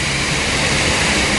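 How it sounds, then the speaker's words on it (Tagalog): A fire hose being tested during a fire inspection at a shopping mall sprays water with a loud, steady rushing roar that stays constant throughout. "Sinubukan pang pagganahin ang fire hose."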